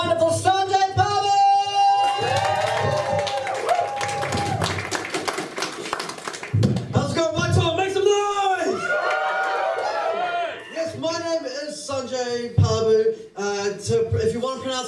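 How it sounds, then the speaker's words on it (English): Comedy-night crowd at Waitoa bar clapping and cheering as comedian Sanjay Parbhu takes the stage, a burst of applause in the middle mixed with a loud announcing voice and crowd noise. "Please give a huge round of applause for your second act of the evening, the wonderful Sanjay Parbhu!"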